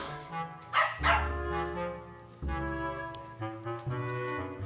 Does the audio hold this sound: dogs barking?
yes